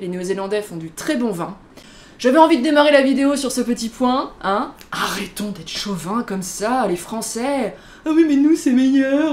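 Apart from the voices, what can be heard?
No distinct noise like a dog, phone or traffic.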